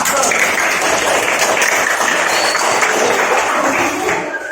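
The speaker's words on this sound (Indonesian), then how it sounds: "Tepuk tangan buat kelompok 5." A classroom of students applauds group 5 during a teaching practice session, steady dense clapping filling the whole stretch at close range and tapering slightly at the end.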